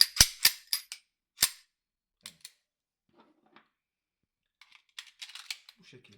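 A Sarsılmaz P8L pistol being lightly tapped, giving a few sharp metallic clicks and taps close up, then sparse faint rattles and clicks with a short spoken phrase.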